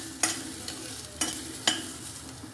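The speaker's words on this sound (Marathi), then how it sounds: "धने टाकून घेते त्याच्यामध्येच आणि गरम मसाले टाकून घ्यायचे आणि सगळं जिनस टाकून भाजून घ्यायचं" Coriander seeds and garam masala roast in a pan with a low, dry sizzle. A spoon scrapes and clicks against the pan three distinct times, and there is no talk.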